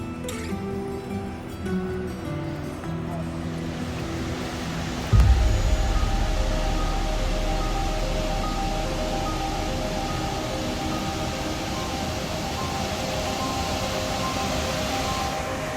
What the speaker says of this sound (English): So this here is the Cascata delle Marmore. You can hear it, it's very loud.